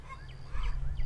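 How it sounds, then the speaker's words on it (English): Agitated chickens squawk and cluck a few times on a bee farm homestead, over a low steady background rumble, fairly faint and somewhat distant. "Man, the chickens are upset about something."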